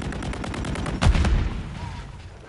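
A rapid burst of gunfire in a shooter video game, shots fired through a wall, a loud cluster of cracks after a quieter rattle, fading into the background afterward.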